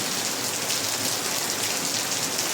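Heavy rain pours down in a dense, unbroken roar of hiss, loud and steady throughout with no other sounds.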